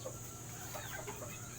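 A gift gamefowl rooster of Matnog bloodline clucks in a few soft, short calls, faint against a steady background hiss.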